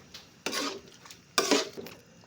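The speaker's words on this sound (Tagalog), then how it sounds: "halo-haloin lang din po natin" Utensil stirring sweet and sour sauce thickened with dissolved cornstarch in a pan for tilapia escabeche, two short scraping bursts separated by quieter pauses, close and clear with no talk.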